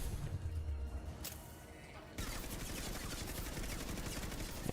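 Rapid bursts of hand cannon gunfire in the video game Mass Effect 2, a dense crackling volley filling the second half after a quieter stretch, with no talk over it.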